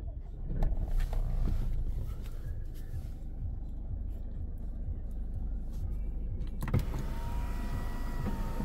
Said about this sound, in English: Blinds are shut, you can shut both blinds if you wish.